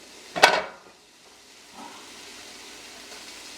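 Scallion and fresh thyme stirred in a hot pan for stove-top mango jerk shrimp: a short, sharp burst of sizzle as the aromatics are moved, then a quieter steady hiss of frying.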